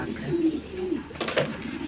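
Fancy pigeons in a loft, including Jacobins, coo in low soft throaty bursts, one after another, close by with faint background noise.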